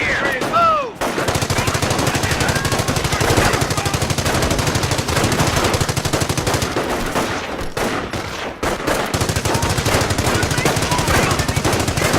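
Sustained machine-gun fire and rifle shots rattle continuously during a Normandy beach landing in a World War II strategy video game, dense rapid bursts with brief pauses.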